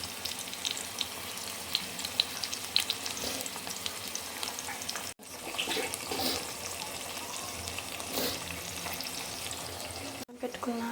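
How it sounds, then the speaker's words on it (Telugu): Green chillies, onion and tomato frying in a pan for puffed rice upma, a steady moderate sizzle with occasional stirring scrapes and two brief dropouts, a voice talking over it. "పచ్చిమిర్చి, ఆనియన్ వేగిన తర్వాత టమాటో వేసుకోవాలి."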